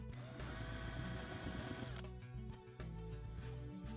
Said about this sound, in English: To create the recess, use a chamfer bit.